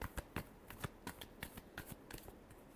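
Tarot cards being shuffled close up, a quick run of crisp riffling slaps and flicks in a steady rhythm, quiet and with no voices.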